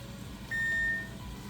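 Oven control panel being set to broil: a single clear electronic beep of about half a second, with faint quieter tones before and after against low kitchen hum.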